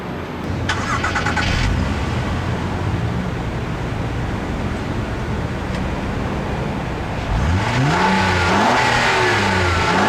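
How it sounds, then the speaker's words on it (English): A 2013 Acura RDX AWD engine revs hard with a throaty exhaust roar, rising and falling in pitch through several throttle blips, loud and close. "Really nice, racy, typical Honda exhaust system."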